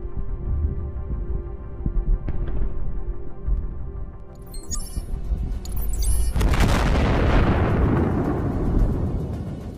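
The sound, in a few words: landmine explosion hitting T-90M tank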